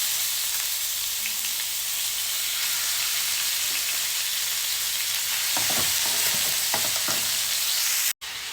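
Pork frying in a pan for a Filipino binagoongan dish, giving a steady, close sizzle with faint stirring scrapes and crackles near the end.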